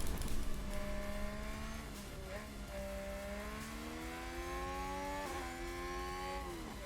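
Formula 1 race car engines in the management game F1 Manager 22, a steady high whine that rises and dips with gear changes, running under people talking.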